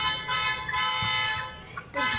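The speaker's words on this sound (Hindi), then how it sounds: "जैसे कि आप देख सकते हैं यहाँ पे जो है वो हॉर्न बज रहे हैं" Vehicle horns honk as part of a smart traffic light system demonstration, a steady electronic tone droning for about two seconds. It sounds moderately loud and continuous, with faint background noise.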